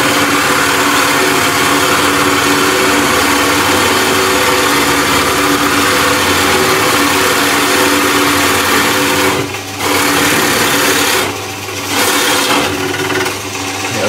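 A wood lathe turns a spinning top clamped down on the bed, its steady high-pitched motor whine and tool chatter running continuously with two brief dips near the end.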